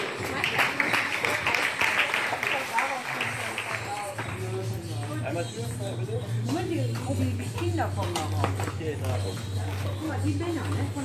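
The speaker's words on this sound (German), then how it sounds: "noch einmal einen kräftigen Applaus für Siegerin und Platzierte" Applause at a horse show prize ceremony for the winner and placed riders of a reining qualifier, clapping from the crowd beneath an announcer's amplified voice, with horse hoofbeats and movement audible as the riders parade.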